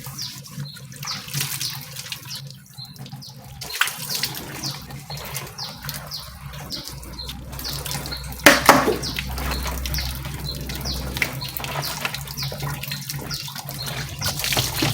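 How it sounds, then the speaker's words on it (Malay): Tap water runs and splashes over young banana leaves as they are rinsed to strip their wax, a steady close trickle with a few louder gushes. "Kita basuh daun ni."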